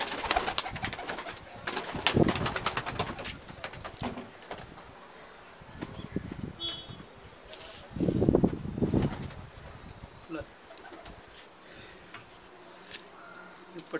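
High-flying pigeons coo and call close by in several loud bursts, with quieter stretches between and faint insect-like buzzing in the background.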